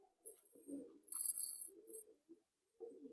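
Pigeons of closed-tail breeds such as Madrasi, Malwai, teddy and andra coo softly in a few low, separate bursts, with brief higher chirps. The sound is faint and close, with no talking.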